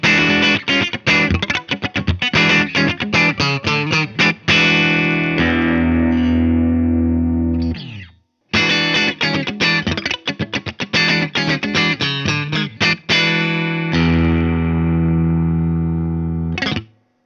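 Baum Vega Verve electric guitar on the middle pickup position, playing bright strummed chords and picked phrases with a clean, hi-fi tone and sustained ringing notes, a brief gap midway, no talking.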